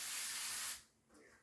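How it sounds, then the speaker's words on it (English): A hand spray bottle mists water over a seedling planting tray, one short, close hiss that cuts off abruptly. "Now, we'll give it another little spray."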